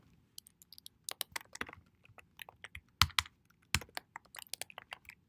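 Close, fast keystrokes on a computer keyboard come in irregular bursts of sharp clicks with a few louder key strikes, over a quiet background with no talking.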